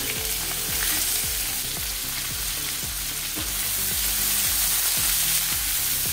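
Sliced onions fry in a pan with a pinch of asafoetida, giving a steady, close sizzle with regular scraping strokes of stirring throughout and no voices.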